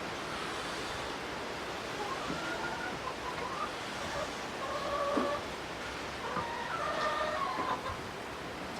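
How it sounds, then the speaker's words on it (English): Faint chicken clucks and short calls come and go at a distance over a steady hiss of background noise. "you hear anything in the background, that's the chickens"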